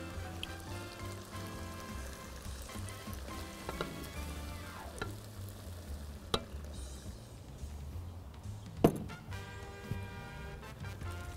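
Steady close sizzling as sauce fries on meat in a pan, with occasional clinks and scraping from stirring, no voices.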